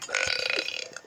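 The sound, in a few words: burp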